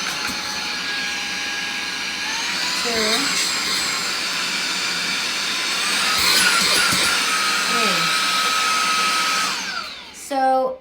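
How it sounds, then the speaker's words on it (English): A REDTIGER cordless handheld car vacuum runs close to the microphone with a steady high-pitched motor whine and airflow hiss, its pitch sliding slightly as it shifts, then cutting off near the end; a voice briefly counts over it. "This is really cool handheld vacuum. It has to suction and blow."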